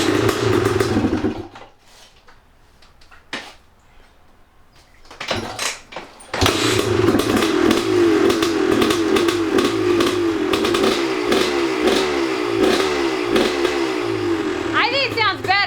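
An old dirt bike engine, running too rich, idles roughly, drops away, then is started on choke and revved, a loud close blatting putter with uneven revs, and people talk over it.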